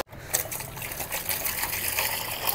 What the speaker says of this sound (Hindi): पानी फटाफट इसके अंदर डाल देते हैं